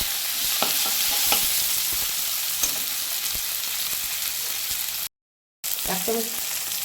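Chopped tomato hits a hot pan and fries with spices for a shrimp kofta curry, a bright continuous sizzle broken by scraping stir strokes and spatula knocks, with a brief gap of silence near the end.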